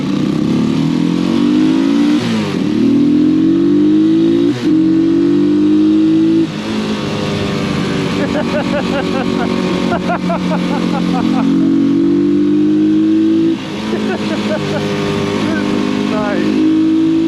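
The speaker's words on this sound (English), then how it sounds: "the moment I gave this Halcyon throttle for the very first time" A Janus Halcyon 450 motorcycle accelerates hard under throttle, its engine rising in pitch through several gear changes and dropping briefly between shifts. The note stays loud and close and continues throughout.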